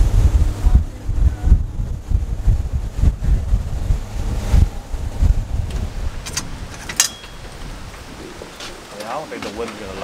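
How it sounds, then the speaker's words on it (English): Strong wind buffets the microphone on open water in Goose Bay off the St. Lawrence River, with waves slapping nearby a fishing boat; a steady roaring gust fills the whole stretch, and brief voices surface near the end. "It's crazy windy out here still."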